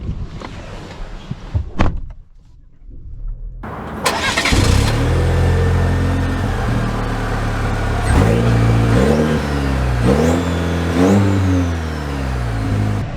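A 2023 Chevy Colorado LT pickup starts after a couple of clicks, its engine catching with a loud rev, then pulling away with rising and falling engine tones as it accelerates and shifts, heard up close with no talking.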